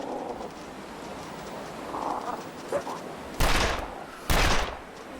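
Two loud, separate gunshots from The Long Dark burst out near the end after a quiet stretch of faint ambience and murmuring voices.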